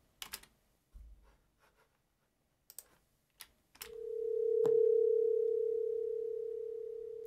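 After a few scattered clicks and taps, a single FM synthesizer tone enters, swells gently and holds steady with a soft, gradual sustain before slowly fading.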